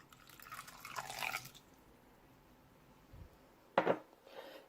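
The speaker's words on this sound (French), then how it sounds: "Je vais ajouter 3 cuillères à soupe de vinaigre." Vinegar spooned into a chicken drumstick marinade with tomato paste: a soft liquid splash and clink near one second, a quiet low knock, then a sharper wet splash and drip near the end, close and alone without talk.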